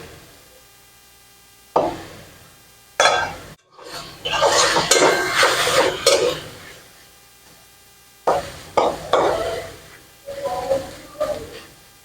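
Radish greens frying in a pan over medium-low heat are stirred in several noisy bursts of scraping and clattering, separated by quieter pauses.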